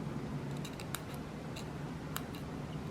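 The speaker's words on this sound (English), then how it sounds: "Our paper is flexing and popping." Paper flexing and popping against the edge of a Swacker 252 broadhead as it is checked for a burr after 800-grit sharpening, a few sharp crisp ticks and snaps over steady low background noise.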